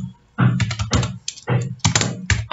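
Fingers tap on a computer keyboard while coding, giving close, crisp keystrokes in irregular bursts with short pauses between clusters of clicks.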